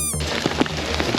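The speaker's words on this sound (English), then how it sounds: "It's raining pretty hard and none of this is waterproof." Heavy rain pours in an Italian town during a thunderstorm, a dense steady hiss of drops spattering on surfaces with a few sharper splashes, close and loud for a brief moment without speech.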